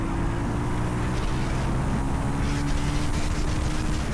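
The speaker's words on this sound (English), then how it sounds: "But see how quickly this thing will rev on out, and it keeps revving" The engine of an RPS Racer Z40 motorized bike revving, a steady buzzing drone that climbs slightly in pitch and holds high, with wind noise over it and no talk.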